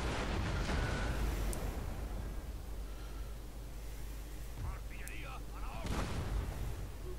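Cannon fire from a naval battle in the Baltic in Empire: Total War, heavy booms rolling under a constant low rumble, with one louder blast near the end.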